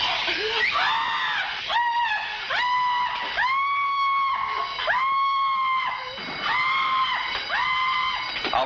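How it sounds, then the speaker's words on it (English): A woman cashier screams over and over in a 1954 radio crime drama, long shrill wails in a rising and falling series, loud and close. "Outside, a Marine heard the cashier's screams."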